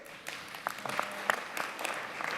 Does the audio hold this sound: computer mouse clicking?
no